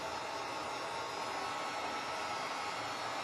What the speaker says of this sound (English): let's grab your dryer.